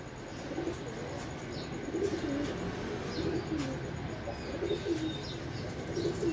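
Home-bred pigeons coo in soft, repeated low phrases against a quiet background, with faint chirps and occasional wing flutters.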